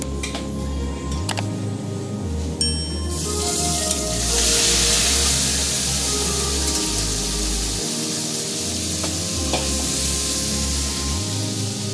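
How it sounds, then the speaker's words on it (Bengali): Amodi fish frying in hot oil for a Bengali fish curry gives a loud, steady sizzle and crackle throughout, with occasional light ticks from stirring and no talk. "এরকম করে আমি সব মাছগুলো ভেজে নেব।"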